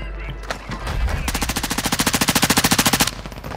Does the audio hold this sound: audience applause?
no